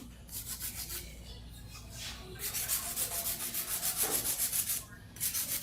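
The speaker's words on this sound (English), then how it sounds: "It's a very efficient way of filing." Nail file scraping back and forth over an acrylic nail during a custom full-set manicure, a steady rapid rhythm of close, dry rubbing strokes with short pauses between bursts.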